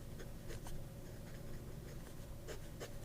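A well-polished broad-nib fountain pen glides across paper, making faint, close scratching strokes in a loose, irregular rhythm over a steady low background hum.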